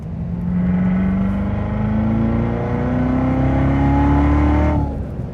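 A carbon fiber wide-body sports car with ceramic brakes accelerates hard in Track mode, its loud, close engine note climbing steadily in pitch through a sustained rev with no pauses.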